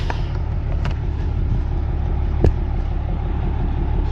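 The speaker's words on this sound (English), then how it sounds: "Another truck just arrived with dirt." A heavy truck delivering dirt rumbles steadily nearby, a low continuous engine drone with a brief sharp knock partway through.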